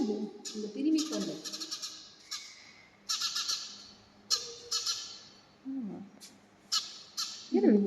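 Harsh, squawking bird calls, said to come from a sparrow, sound in short repeated bursts at a church shrine in Tamil Nadu, fairly close against a quiet background, with brief bits of voice in between.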